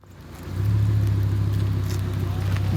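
Audi R8 V10 with a naturally aspirated engine and custom loud exhaust, a deep steady rumble that swells after a quiet start and holds close and strong while the car drives.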